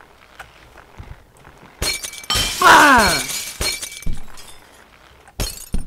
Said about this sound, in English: Break all the glass.